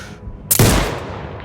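A single loud rifle shot in Sniper Ghost Warrior Contracts 2, fired with straight-flying homing bullets: a sharp, close crack after a quiet lead-in, followed by a decaying rumbling echo.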